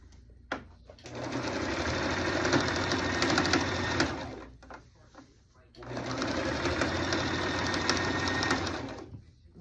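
Sewing machine stitching around the edges of layered fabric and fleece, two sustained runs of fast, even mechanical whirring separated by a short pause, loud and close, with brief clicks between runs.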